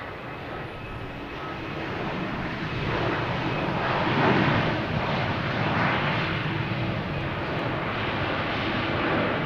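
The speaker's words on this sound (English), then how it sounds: "And we have Copa Airlines 737-800" Copa Airlines Boeing 737-800 landing on runway 4 left at Boston Logan, a steady broadband jet roar that swells slightly toward the middle and holds at moderate distance throughout, with no talk.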